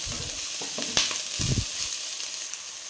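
Ginger-garlic paste frying in a pan, with a soft constant sizzle and a few brief scraping stirs of the spoon, close and fairly quiet.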